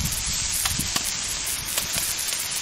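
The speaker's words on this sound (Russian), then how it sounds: "Пока обжариваются ножки с кальмарами и креветками, займемся овощами." Frog legs, squid and shrimp fry in a pan with a dense, continuous sizzle and occasional sharp crackles, close and steady, and no talking.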